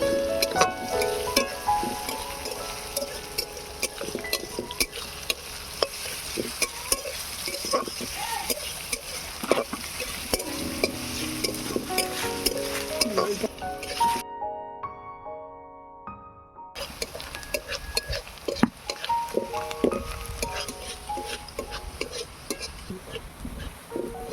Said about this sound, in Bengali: লঙ্কা রসুন পেঁয়াজটাকে একটু লাল লাল করে ভেজে নেব।